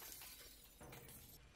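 Glass shattering in the VR game Half-Life: Alyx, one loud continuous crash of breaking panes lasting about a second and a half, bright and close with a second burst partway through, no talk over it.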